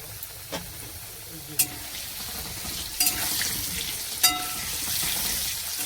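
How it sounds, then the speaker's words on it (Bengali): Potatoes fry with salt and turmeric in a pan, a steady close sizzle with a few sharp spatula knocks against the metal spread through it. "নুন আর হলুদ দিয়ে একটু ভেজে নেব"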